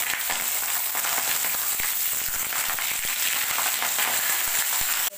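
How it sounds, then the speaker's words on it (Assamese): Potato pieces frying in hot oil for a Bengali-style cauliflower and potato curry, a steady close crackling sizzle throughout, loud and even with no talk. "আলু ভাজি হওক"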